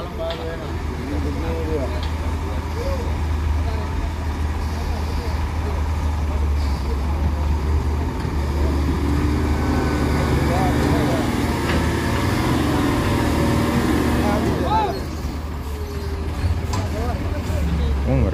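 A Hino 500 Euro 4 tanker truck hauling palm oil, its diesel engine idling loud and steady with a deep low drone, a louder swell partway through, while people talk over it.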